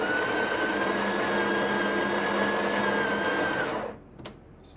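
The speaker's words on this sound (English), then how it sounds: "You need to grind for about 3 or 4 seconds just to get rid of whatever's inside" A Breville Oracle Touch espresso machine's built-in grinder purges old coffee grounds with a steady, loud whirring grind lasting nearly four seconds before cutting off abruptly.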